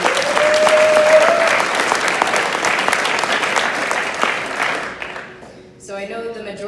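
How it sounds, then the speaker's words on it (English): Sustained applause from an audience at a school-choice event in Tennessee, dense and loud clapping that fades toward the end before a voice begins speaking. "I would like to give you all a round of applause"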